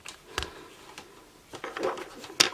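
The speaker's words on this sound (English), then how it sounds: "that is my cat trying to climb into a bag from T-Mobile" Scattered crinkles and rustles of a plastic bag as a cat tries to climb into it, irregular sharp crackles close by, with no talking.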